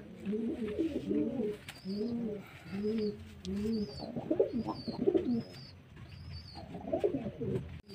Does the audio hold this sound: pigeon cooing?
yes